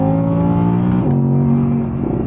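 A 2022 Audi R8 Spyder engine pulls hard with steady rising harmonics, dips briefly at a gear change around the one-second mark, then climbs again, loud and close throughout.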